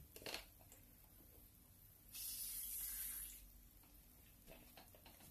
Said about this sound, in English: while we're here, we will put some water in.